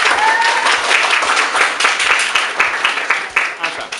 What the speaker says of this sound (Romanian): Hai să aplaudăm!